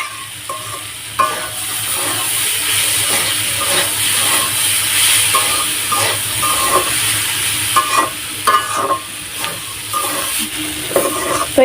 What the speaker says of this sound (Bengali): এই যে এভাবে ভেজে নিচ্ছি